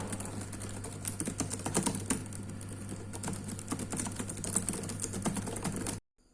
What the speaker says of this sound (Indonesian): untuk keyboardnya sendiri masih cukup tactile, namun kurang nyaman untuk digunakan